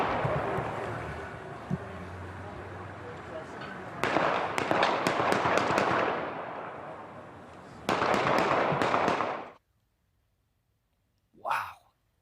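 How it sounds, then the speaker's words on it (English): A rapid series of sharp gunshots over loud rushing noise, about a dozen in two clusters less than a block away near Comic-Con, then sudden silence. "at least a dozen gunshots ring out less than a block away."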